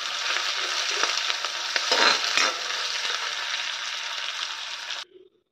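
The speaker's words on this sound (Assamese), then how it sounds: "এইফালে পিঁয়াজখিনি ভাজি ল'ম ফাৰ্ষ্টতে মই।" Onions sizzle steadily in hot oil in a pan for a home-cooked pulao, a loud, dense frying hiss with a brief stirring scrape midway, then it cuts off abruptly near the end.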